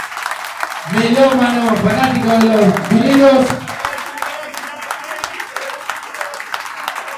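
An audience applauds a DJ at a live event, a short wash of clapping that fades while an announcer talks over it through amplified speakers.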